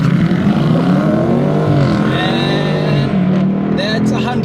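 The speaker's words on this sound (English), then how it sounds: "My word, that N63 engine just keeps hauling and hauling and hauling." A 2023 BMW M850i Convertible with the N63 engine accelerates hard, its loud, close engine note rising steadily through the gears with a brief dip at a shift, and some talk mixed in.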